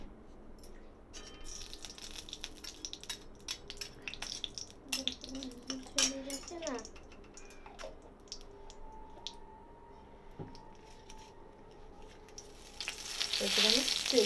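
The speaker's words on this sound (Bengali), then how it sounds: "কড়াইতে আরো 1 টেবিল স্পুন ঘি দেব।" Ghee sizzles in a kadai with a soft, intermittent crackle broken by a few clinks and stirs. It swells into a louder, rushing sizzle near the end.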